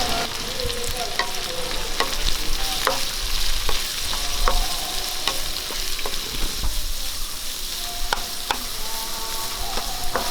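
Chopped shallots and curry leaves fry in hot oil, a steady bright sizzle running throughout with intermittent scrapes and clinks of a spoon stirring the pan, close and alone with no talk.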